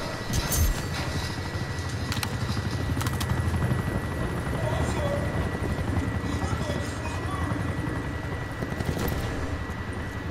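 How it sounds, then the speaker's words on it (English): A helicopter in the Call of Duty Black Ops 4 video game beats steadily through the clip, with sharp bursts of gunfire and shots breaking in over it and game voices speaking at times. "chopper available for tasking"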